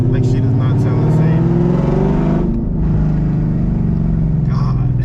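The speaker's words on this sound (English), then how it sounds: "She sounds like a completely different car" A Ford Mustang GT with Texas Speed headers idling and revving, a loud, deep, throbbing engine note held close throughout, with a voice talking over it.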